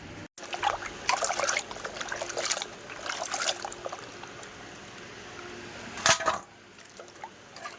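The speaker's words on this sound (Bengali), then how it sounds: "সব তরকারিগুলো ভালো করে ধুয়ে নিলাম" Water trickles and splashes as vegetables and thick Malabar spinach are washed by hand, a steady close sloshing with a brief louder splash toward the end.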